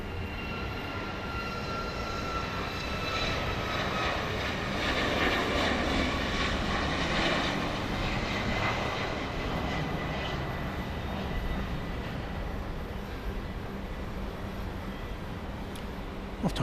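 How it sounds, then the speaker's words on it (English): Boeing 737 MAX 8 jet departing Dallas Love Field for Harlingen, Texas at night, a continuous broadband engine roar with a thin whine, steady and fairly distant, rising slightly in the middle. "Off to Harlingen, Texas, a MAX 8 flight 2208"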